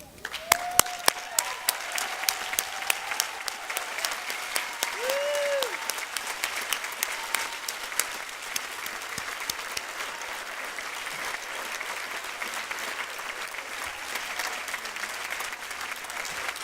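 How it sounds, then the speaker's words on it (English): Commencement audience applauding Phi Theta Kappa graduates, sustained clapping from a large crowd filling the hall, with a voice speaking briefly over it early on. "Will the members of Phi Theta Kappa please rise and remain in place so that we can applaud"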